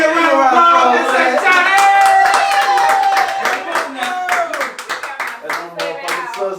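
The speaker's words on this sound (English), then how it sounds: "Give me a round of applause" A few people clap in a lively group setting, sharp close claps scattered over loud talking and voices, the claps growing more prominent toward the end.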